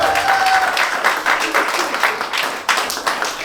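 Applause greets new board members being introduced at a winter sea-swimming club gathering. A steady patter of many hands clapping runs throughout, with a voice faintly underneath.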